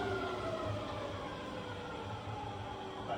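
A rebuilt Bridgeport milling machine runs in reverse with a smooth, quiet, steady mechanical hum and faint whine, held constant throughout.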